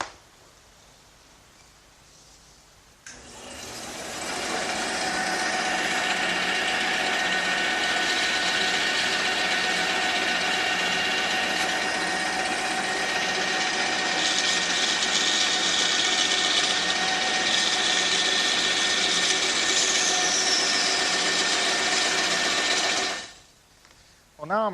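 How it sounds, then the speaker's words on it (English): A bandsaw cuts oak pieces steadily for about twenty seconds, a loud sustained mechanical whine with a humming motor underneath, starting and stopping abruptly. "the first thing I'm going to do is cut these pieces on the bandsaw"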